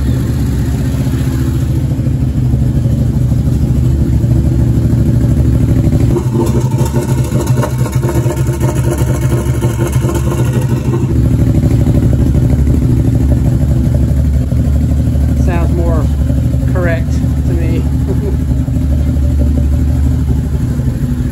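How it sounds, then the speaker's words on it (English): A Can-Am Maverick 1000R side-by-side engine runs with a newly fitted exhaust, idling loud and close with a deep, steady rumble and rattly clatter, briefly revving higher in the middle before settling back to idle. "There's the exhaust on there. Now let's see how it sounds with that."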